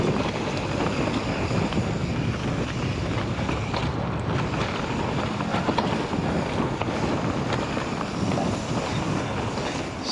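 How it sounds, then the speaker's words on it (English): Fierce wind at Bike Park Wales buffets the microphone out in the open on a mountain bike trail, a loud, unbroken roar and rumble that lasts throughout with no voices. "the wind is proper fierce and cold"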